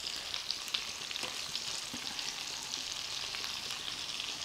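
Raw meat and potatoes fry in a pan with a steady bright hiss and light crackle, and faint stirring taps come through now and then.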